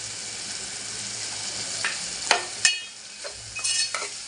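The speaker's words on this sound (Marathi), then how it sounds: "आता आपण शेवग्याच्या शेंगा टाकायला घेऊया त्या पण व्यवस्थित असे टॅमॅटो मसाल्यामध्ये परतून घ्यायचे" Drumstick pods sauté in a tomato masala for spicy dal, giving a steady close sizzle with a few sharp scraping stirs against the pan and no talk.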